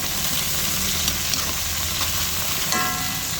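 Tomatoes go into a hot frying pan with milkfish, and a loud, constant sizzle of oil fills the kitchen, with faint stirring and a small clatter near the end.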